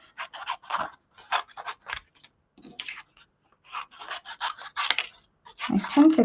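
Scissors snip around paper crafting pieces in a run of short, close cuts with brief pauses between them, a voice talking faintly between the snips.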